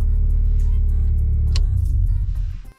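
A Toyota MR2 Turbo engine, just back from an ECU repair, revs loudly and close by in one sustained run before dropping off sharply at the end.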